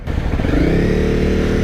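Honda CRF 250 Rally motorcycle engine running with a rising whine as it pulls, loud and close, carrying a steady tonal winding note over the engine.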